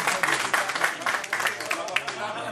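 An audience claps for Rafik Halabi at a public ceremony on a computer-for-every-student program, a moderately dense burst of clapping lasting a few seconds without talk.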